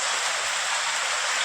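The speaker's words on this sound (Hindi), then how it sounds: "आप लोग देखिए कि कितना तेज़ बारिश हो रहा है।" Heavy rain pouring down steadily, a dense even wash of falling water with no breaks or voices.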